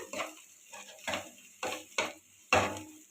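Onions are stirred in a pan with turmeric and salt, five or six separate scraping strokes of a spoon against the metal, each short and close, with quiet gaps between them.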